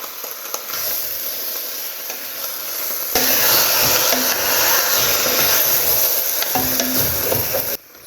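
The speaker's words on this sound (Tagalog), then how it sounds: "ilagay na natin yung ating ribs. Tapos, haluin lang muna natin." Pork ribs hit hot oil in a pot for sinigang and are stirred, a loud continuous sizzle with scraping stirs close up, rising sharply partway through.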